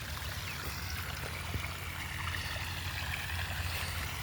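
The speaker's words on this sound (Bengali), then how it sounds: "আমি বহু বছর ধরেই এই ঝর্ণা দেখতেছি।" A seasonal waterfall stream runs after rain, giving a steady, even rush of flowing water that fills the whole stretch with no pauses and no voices.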